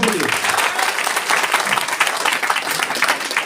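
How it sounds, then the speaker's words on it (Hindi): Dense, steady applause from a crowd at a 26 January Republic Day function, filling the whole stretch at an even, fairly loud level with a possible voice mixed in. "बस एक बार तालियां, मीठी ताली हो जाएंगे लोगों के लिए"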